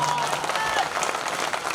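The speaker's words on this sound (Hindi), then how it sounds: "तालियां अभी भी कमजोर है।" An audience at a Hindi kavi sammelan poetry gathering claps in a steady wash of applause from a crowd throughout.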